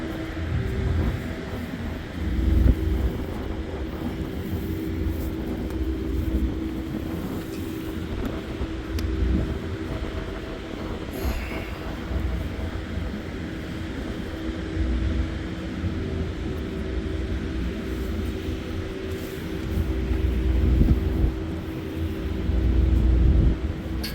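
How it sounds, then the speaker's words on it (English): Wind rumbles and buffets steadily outdoors, loud and low, with gusty surges across the whole stretch and no speech. "You see we got some wind today."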